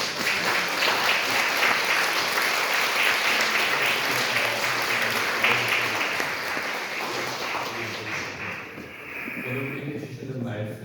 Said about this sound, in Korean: 우리 한번 크게 박수로 환영하시겠습니다